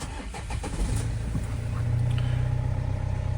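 A cold 2009 Opel Vivaro 2.5 TDI diesel passenger van starts with a brief crank, catches quickly and settles into a steady, close, rumbling idle.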